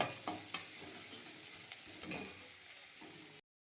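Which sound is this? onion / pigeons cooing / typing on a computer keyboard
onion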